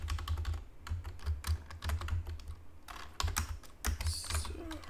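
Rapid, clicky keystrokes on a computer keyboard while coding in VS Code, coming in steady close bursts with brief pauses, alone and fairly loud.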